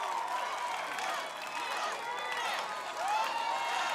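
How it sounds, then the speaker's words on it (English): An arena crowd cheers and shouts for a female competitor on the Australian Ninja Warrior course. The roar is a dense, sustained wash that swells near the end, with an announcer's voice over it. "The crowd is pumped, willing her on."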